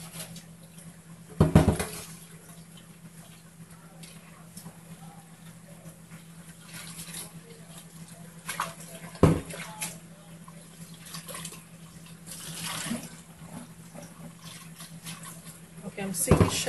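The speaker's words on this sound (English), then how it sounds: "wash out the barkeeper's friend." A stainless steel pot is rinsed of Bar Keepers Friend cleanser at a sink, with faint running water and a few soft clanks of the pot against the basin, under a steady low hum.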